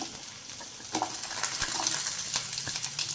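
Prepared pieces and small onions hit a hot pan for a rustic roasted chutney, giving a dense, close sizzle with intermittent stirring scrapes throughout.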